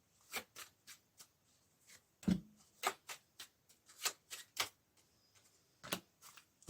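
Tarot and intuition cards are laid down and handled close by in a quiet room, a series of about fifteen sharp, separate slaps and flicks at an irregular pace, with no talking.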